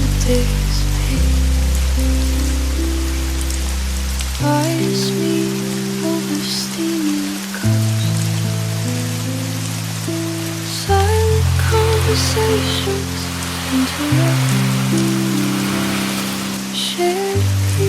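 A gentle, continuous wash of rain at a cafe by the sea stays under slow, shifting music chords, with a voice singing or speaking over the top.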